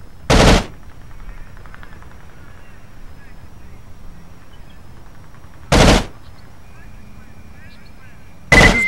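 An M249 SAW machine gun in the America's Army game on Xbox fires three short, loud bursts, widely spaced and sharp, with a faint low hum between them.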